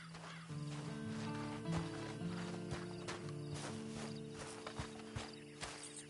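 Horse hooves from Red Dead Redemption 2 Online clop in uneven steps, close and moderately loud, over a steady musical drone with scattered clicks.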